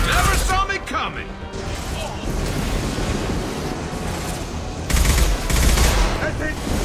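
Sustained automatic gunfire in the Mass Effect 2 sci-fi shooter, a loud, dense, continuous barrage with heavier blasts swelling near the end, with voices talking over parts of it.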